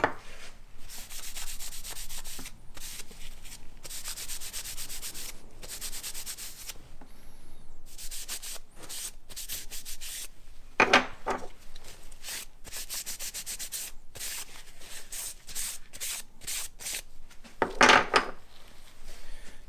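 Cloth wiping a full tang knife blade and handle scales with acetone to degrease them, soft repeated rubbing strokes close by with a couple of sharper scuffs, no talking.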